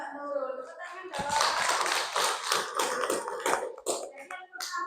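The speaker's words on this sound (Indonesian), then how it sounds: "Tepuk tangan dong" A classroom gives a student a brief burst of hand clapping, with sharp, uneven claps lasting a few seconds and a teacher's voice talking before and after.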